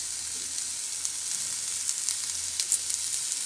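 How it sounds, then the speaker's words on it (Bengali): Cauliflower pieces fry in hot oil in a pan, stirred now and then, giving a steady bright sizzle with occasional small pops and scrapes and no speech. "খুব ভালো করে নেড়ে চেড়ে ফুলকপিটা আমি ভেজে নেব।"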